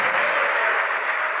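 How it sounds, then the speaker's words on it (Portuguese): A church congregation applauds during a lively worship service, a dense, steady wash of many hands clapping at once, loud and sustained with no talk over it. "vamos aplaudir, igreja"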